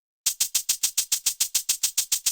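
Shaker and cabasa samples from a drum pack, programmed in FL Studio: a fast, even run of bright crisp rattling hits, about six per second, close and alone after a brief silence.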